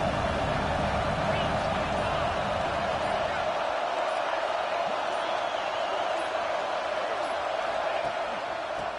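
Football stadium crowd at an Arkansas playoff game roars steadily throughout, a dense continuous wash of cheering and noise with no pauses, loud and distant-sounding like a packed stand.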